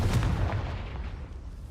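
A Confringo blasting spell from the Hogwarts Legacy video game bursts in a loud, dense, low-heavy blast that rumbles on steadily for under two seconds without tailing off.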